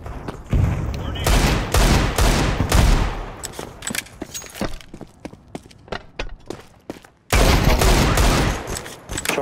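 Rapid gunfire in a Counter-Strike 2 match on the Overpass map, loud bursts and single shots cracking in clusters with brief lulls of scattered shots, under occasional voice chat.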